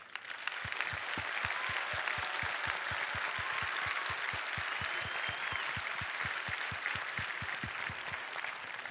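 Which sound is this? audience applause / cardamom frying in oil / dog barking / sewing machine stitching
audience applause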